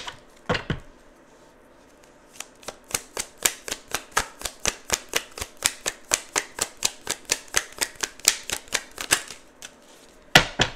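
Tarot cards are shuffled close up in a quick, steady series of crisp riffling snaps and taps, about three per second, with a few louder knocks at the start and end.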